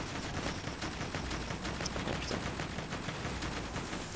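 Rapid automatic fire from a Hyperion turret in Borderlands 2 rattles on without pause, a dense, steady volley that stays fairly faint throughout.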